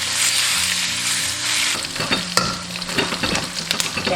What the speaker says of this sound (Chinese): 锅中不用倒油，直接下入5花肉均匀，